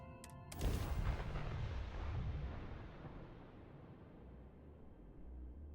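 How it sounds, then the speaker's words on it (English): Spaceship retro thrusters fire during a landing on Mars in Starfield: a brief mechanical click and chirp, then a sudden roaring blast that slowly fades into a low, steady rumble. "Landing struts primed, retros firing."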